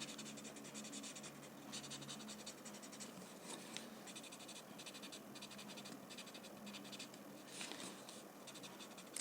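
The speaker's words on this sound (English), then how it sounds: "Slowly blend the graphite." Graphite pencil blending on paper, a steady close scratchy rubbing that continues for the whole stretch, with slightly stronger strokes now and then and no talk.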